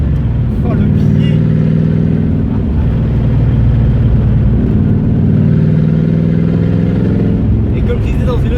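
A Pontiac Firebird engine drones loudly and steadily as the car accelerates, a deep sustained rumble heard from inside, with a voice speaking over it.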